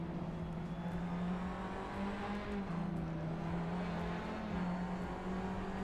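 Cars in the Assetto Corsa racing game give off a steady engine drone and whir, mid-level and continuous, with slight shifts in pitch as they drive, with no speech over it.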